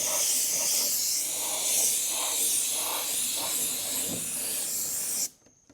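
Spray paint hisses steadily and loudly from an aerosol can onto an RC crawler body, a broad, continuous spray held for several seconds before cutting off abruptly.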